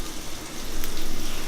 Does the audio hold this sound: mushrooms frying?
yes